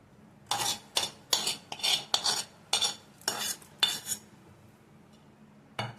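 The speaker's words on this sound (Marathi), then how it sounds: "जिन्नस सर्व एकत्र चांगलं करून घ्यायचं आहे" A spoon stirs wheat flour batter mixed with sautéed vegetables in a steel bowl, about ten quick scraping, clinking strokes close by. A pause follows, then one last knock, with no talk.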